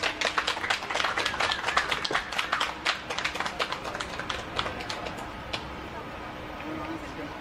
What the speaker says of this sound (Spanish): Le damos una cordial bienvenida y un aplauso.